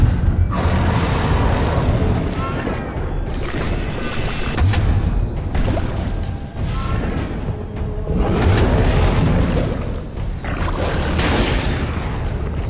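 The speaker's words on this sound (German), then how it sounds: "Die T-Kanone kann schwache Strukturen aus der Ferne zerstören" Heavy booming blasts from a cannon in Alice: Madness Returns fire repeatedly in quick bursts, loud and close, with rumbling explosions and debris between shots.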